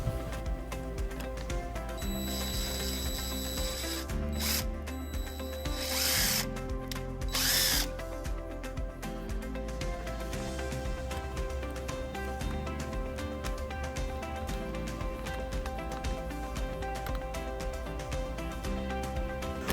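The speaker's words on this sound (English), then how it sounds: "And then we'll drill our next hole." A power drill bores a hole through the body of a 2014 Mitsubishi Outlander during a wiring harness installation, a loud, close, continuous motor whine that runs the whole length without pause.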